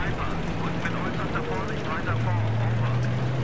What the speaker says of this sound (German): Heli.